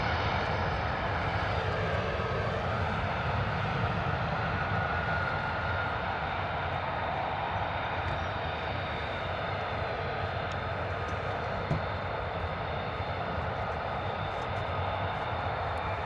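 A US Air Force jet taxis at RAF Lakenheath, its engine a steady, moderately distant whine and roar holding constant for the whole stretch, with no talk.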